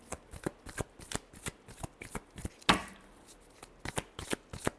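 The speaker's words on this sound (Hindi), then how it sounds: "last shuffle" Tarot cards are shuffled in a quick series of crisp, papery riffles and slaps, close and fairly quiet, with one sharper burst partway through.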